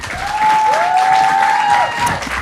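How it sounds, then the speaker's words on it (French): Live podcast audience applauding guests, a full sustained round of clapping from a seated crowd, with a whistle or whooping tone rising over it midway. "On les applaudit"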